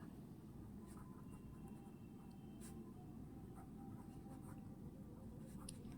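Pen handwriting numbers while working a math problem, a faint, soft scratching that runs steadily throughout.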